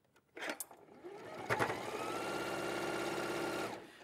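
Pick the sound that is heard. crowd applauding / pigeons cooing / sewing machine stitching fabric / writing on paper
sewing machine stitching fabric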